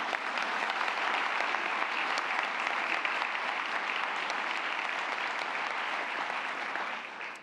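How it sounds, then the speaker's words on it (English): Seated audience at a school board meeting gives a long, even round of applause for award winners, dense steady clapping throughout that tails off right at the end. "You can clap for them."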